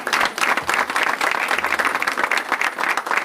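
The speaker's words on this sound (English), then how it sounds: "Give each other a round of applause." An audience applauds at a New York City public schools announcement, dense sustained clapping from a crowd close by.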